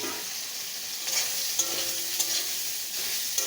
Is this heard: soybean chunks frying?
yes